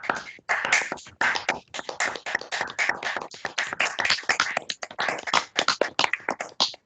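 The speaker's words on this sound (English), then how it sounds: "I hope you hear the claps for your talk." Steady, dense clapping from a small audience closes a mathematics lecture on nodal surfaces and coding theory, fast and unbroken for about seven seconds with no talking.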